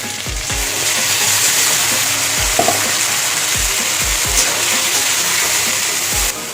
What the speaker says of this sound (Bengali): সবজি ভাজা হয়ে গেছে, এবার মশলা দিয়ে দেবো।